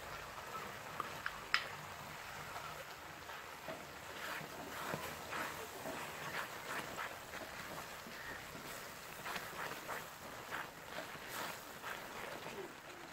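Desi ghee going into a pan of grated carrots for gajar halwa sets off a soft, steady sizzle and frying crackle, with faint stirring and a few sharp clicks near the start.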